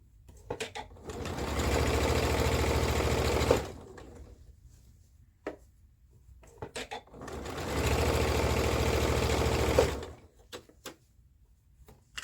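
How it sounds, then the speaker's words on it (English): A sewing machine stitches fabric down in two loud bursts of rapid mechanical whirring, each about three seconds long, separated by quiet handling clicks and rustles of cloth. "So now I'm gonna stitch it down."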